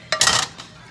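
A spoon scrapes and clinks against a pot while beef mixture is stirred into cauliflower rice, a short burst of metallic rattling and scraping up close that fades quickly.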